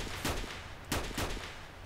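Gunshots in S.T.A.L.K.E.R. Shadow of Chernobyl: three or four fairly faint cracks spaced about a third of a second apart, set against a constant background hiss.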